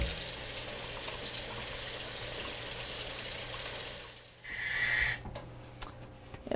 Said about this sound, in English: proper hand washing.